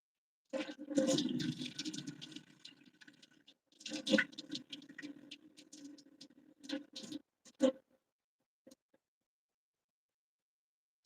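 Water splashes and drips as a face is wetted before applying a golden scrub, in intermittent close splashing bursts with brief pauses, tapering to a few faint drips and silence.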